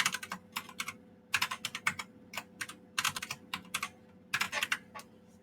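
Quick bursts of keystrokes on a computer keyboard as a password is typed, clicking in short irregular clusters with brief pauses between them, close and clear over a faint steady background hum.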